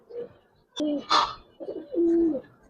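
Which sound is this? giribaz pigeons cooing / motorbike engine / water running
giribaz pigeons cooing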